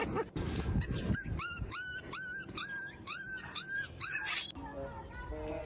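A person imitates a whimpering dog, a run of rising high-pitched whines repeated about eight times in quick succession, close and fairly loud, with noisy breaths around them.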